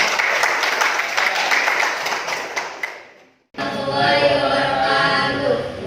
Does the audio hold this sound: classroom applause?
yes